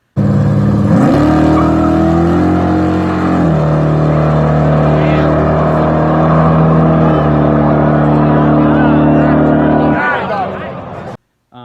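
Drag race car launching hard with all four tires spinning and smoking off the line, a loud continuous engine roar climbing in pitch through gear changes before cutting off near the end.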